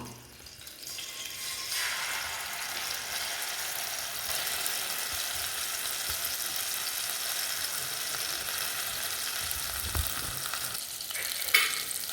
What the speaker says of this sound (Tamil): ஒரு அஞ்சு நிமிஷம் இதை நல்லா வதக்கி விட்டுக்கிடுவோம்